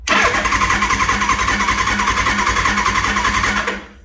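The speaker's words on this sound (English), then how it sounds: "Dry cranking the engine." A 1983 Suzuki GS1100E motorcycle engine cranks over without firing, the starter churning in a fast, steady rhythm for nearly four seconds before cutting off, close and loud with no talking.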